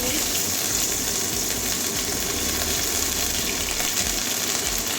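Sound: bay leaf and chopped ginger added to hot oil

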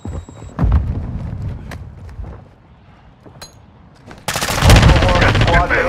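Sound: gunfire hitting player in Call of Duty DMZ video game

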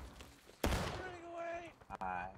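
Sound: rifle gunfire in War of Rights video game

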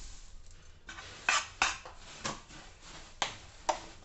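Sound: stirring puffed rice into melted jaggery in a pan

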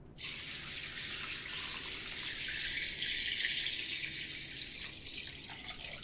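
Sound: water pouring into cooking pot

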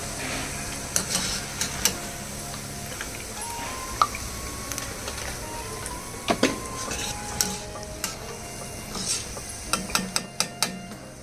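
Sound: spinach pakoda frying in oil

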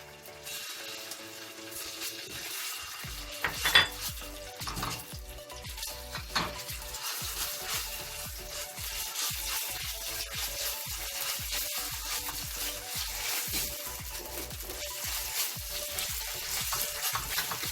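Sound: tomato paste sautéing in a frying pan

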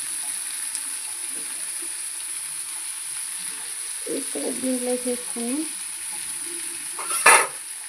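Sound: sizzling tempering in a pan with ground powder

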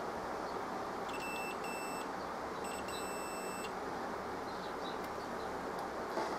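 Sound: multimeter continuity beep

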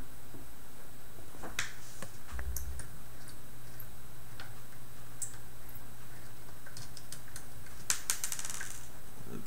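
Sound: screws being taken out of a Dagu Wild Thumper robot chassis

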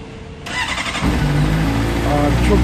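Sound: Honda CBR 600RR motorcycle engine running

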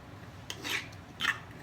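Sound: scraping Dungeness crab fat out of the shell

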